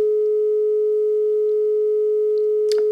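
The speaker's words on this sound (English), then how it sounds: "And I have also found the dial tone." Steady, unbroken dial tone from a crossbar telephone switch, a single pure hum running loud and unchanging for nearly three seconds, with a few faint clicks near the end.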